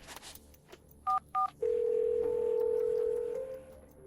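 A phone dials out with two short dual-tone beeps, then a long steady electronic tone rises and holds before cutting off into a voicemail line, clear and close with faint background murmur.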